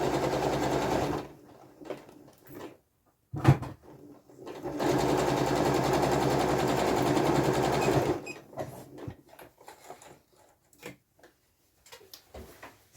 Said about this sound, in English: I'm just going to sew 1 centimetre seam allowance all the way around.